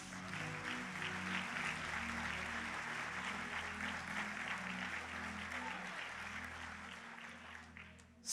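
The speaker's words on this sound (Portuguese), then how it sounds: "Pode aplaudir Jesus." A church congregation applauds steadily and loudly for about eight seconds, with sustained low musical tones playing underneath the clapping throughout.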